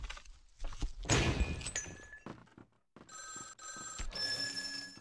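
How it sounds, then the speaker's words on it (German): An old-fashioned telephone bell rings in the vampire role-playing game Vampire: The Masquerade Bloodlines, its trilling rings broken by a thud and a brief drop to near silence amid game sounds. "Gehen wohl nicht an dieses Telefon."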